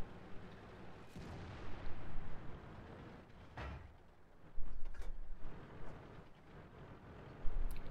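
Tank cannon shots in World of Tanks, fired from a Skoda T 25 tank, come as a few sharp booming blasts spread across the stretch, with low rumbling battle ambience between them and no voices.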